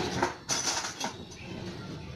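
A metal spoon clinks against dishes in a kitchen, with a few bright taps and scrapes close by over a steady background hum.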